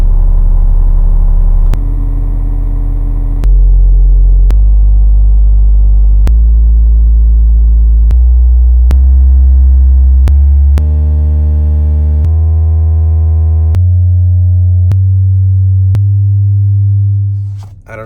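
A series of steady low-frequency test tones, around 25 and 30 hertz and others, played through a JL 8W7 subwoofer in a small enclosure with a shortened tube; loud sustained hums stepping through pitches every second or two.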